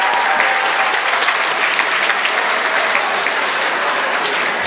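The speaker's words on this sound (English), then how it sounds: "Let's give all the organizers, all the volunteers, a big round of applause." A conference audience at a school STEM event applauds the organizers and volunteers with loud, dense, sustained clapping that fills the whole stretch without letting up.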